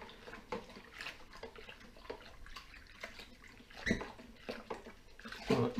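Home brew mixture being stirred in a bucket makes irregular soft sloshing and swishing strokes of liquid, fairly close and quiet, with no talking.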